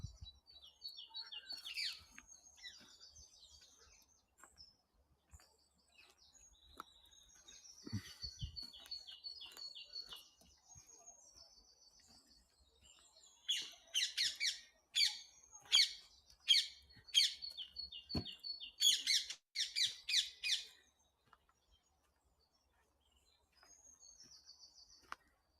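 Birds sing and squawk in a springtime woodland nature reserve, with bursts of sharp, repeated chirps, a busy cluster in the middle and quieter calls on either side, some near and some farther off, with no talk.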